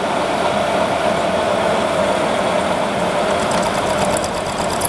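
A small high-speed grinding head sharpening extruder knives at about 500 rpm, heard as a loud, steady mechanical whine and hum that runs unbroken and alone throughout.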